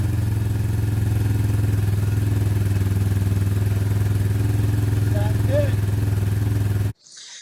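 A Harley motorcycle engine, just after a carburetor repair, runs with a loud, steady throbbing drone close by, holding an even pace before cutting off abruptly near the end.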